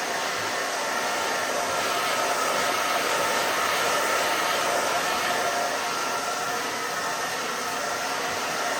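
A hair dryer blows steadily, close and loud, as a pixie haircut is blow-dried with a brush, a constant rushing whoosh with no talk.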